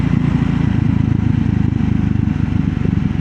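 A 400 cc scrambler motorcycle engine pulls steadily in fourth gear at around 4000 rpm, a loud, continuous low throbbing drone heard up close with no talk over it.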